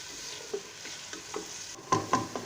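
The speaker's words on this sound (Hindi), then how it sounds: "ऑयल थोड़ा सा गरम हो जाए तो फिर हम इसमें ये प्याज शामिल कर देंगे और इसको थोड़ा सा ब्राउन कर लेंगे।" Onions frying in hot oil with curry leaves and cloves for haleem, a soft steady sizzle broken by a few light stirring scrapes and clinks near the end, no voices.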